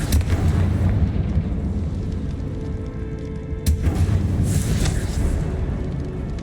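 A Confringo blasting spell exploding in Hogwarts Legacy, a loud rumbling burst with a sharp crack partway through, heard alone over dense game ambience.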